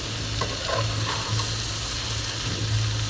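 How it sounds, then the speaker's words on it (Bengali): Sliced bitter gourd fries in a pan with a steady close sizzle, while a spatula stirs it with soft scraping sounds and a low hum underneath, with no talking. "সিদ্ধ হয়ে গিয়েছে, হালকা ভাজা ভাজা হয়েছে, ঠিক এরকমই হবে। আর আমি আবার একটু নেড়ে চেড়ে নিব।"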